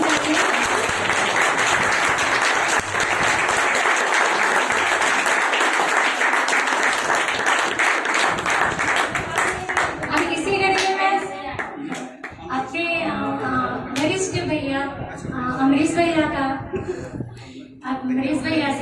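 Sustained audience applause and clapping at a Gandhi Jayanti program in Varanasi, loud and dense for about ten seconds, then thinning out as a voice speaks over the fading claps.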